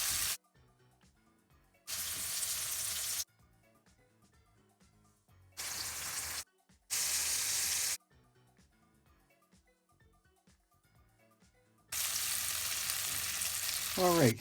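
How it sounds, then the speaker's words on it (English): Breadfruit chunks frying lightly in a pan over a fire, heard as loud bursts of sizzling that start and stop several times between quieter stretches, ending in a long sustained sizzle. "Let's start frying our breadfruit chunks."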